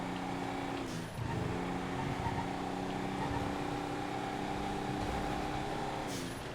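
Sand King off-road pickup truck in GTA, its engine droning steadily and loud with harmonic tones rising briefly as it revs, holding a sustained hum throughout.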